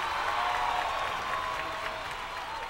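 Audience applause at a Malayalam comedy stage show, a dense steady wash of clapping from a crowd that holds for a few seconds and eases slightly toward the end, with no talk over it.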